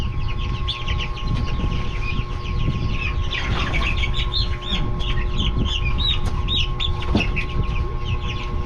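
Rhode Island Red chicks peep and cluck in a busy chorus of high, close chirps, steady over a low background hum.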